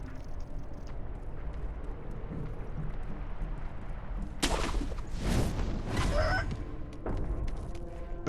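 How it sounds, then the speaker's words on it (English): Roosters crowing in a village in the video game Sekiro. Several drawn-out crows rise over a steady ambient background midway through, fairly close and loud, with no talking. "I do hear roosters."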